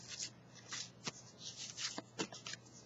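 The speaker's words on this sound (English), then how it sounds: "And then I have just a whole bunch of different little ephemera type cards" Small paper ephemera cards being handled and shuffled, quiet close rustles with several sharp flicks and slides of card against card.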